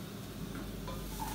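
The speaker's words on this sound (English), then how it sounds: "the onion's cooking away, ginger, garlic, chuck it in." Ginger and garlic go into onions frying in a pan for channa masala, giving a steady close sizzle with faint stirring scrapes, no voices.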